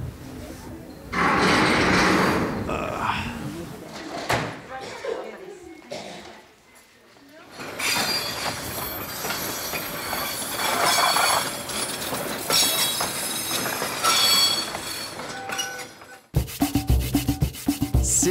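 Train riding along a Bolivian railway toward La Paz, a continuous rumbling and rubbing of wheels on track with metallic scraping, loud and close, briefly dipping before surging again.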